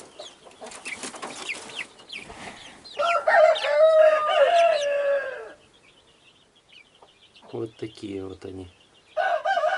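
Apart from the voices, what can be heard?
chicks clucking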